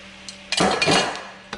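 Utensils clink and scrape in a pan as meat is added to chow mein noodles, a sharp clatter followed by a sustained jumble of rattling, then a final short knock.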